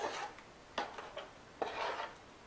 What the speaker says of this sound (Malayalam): എന്നിട്ട് നല്ലോണം ഇളക്കുക.